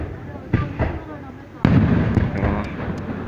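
Fireworks go off for a 2019 New Year's Eve celebration in Bắc Kạn province, Vietnam, with a few sharp early bursts, then a loud, sustained crackling barrage of pops and booms, near and continuous.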